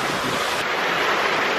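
Water slides down a large plaza water feature in a steady, broad rushing wash, loud and close and unbroken, much like surf or a strong wind.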